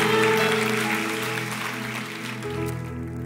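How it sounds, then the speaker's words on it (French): A church congregation applauds at a service, a steady wash of clapping from many hands that holds through and then thins, with sustained musical tones underneath. "que ceux qui le croient applaudissent une dernière fois"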